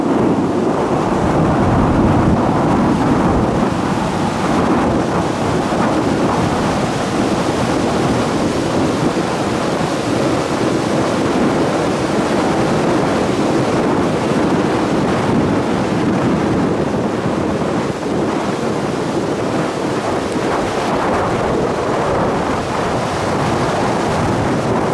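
Strong wind buffets the microphone in a loud, constant roar on a Maldives island beach, with surf rumbling underneath and no pauses throughout.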